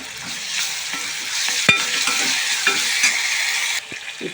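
Onions fry in a pan with ginger garlic paste, sizzling steadily while a utensil stirs them with scraping clicks and one sharp knock, heard up close with no talk.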